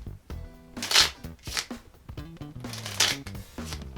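Playing cards riffle-shuffled during cardistry, with two crisp, loud bursts of rapid fluttering card clicks spaced a couple of seconds apart, mixed with softer handling rustles and background music.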